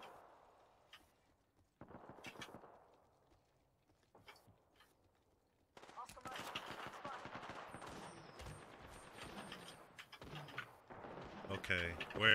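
Gunfire in Apex Legends comes in as dense, rapid bursts of shots in the second half, loud and cluttered with game effects, after a quieter stretch; voices talk over parts of it.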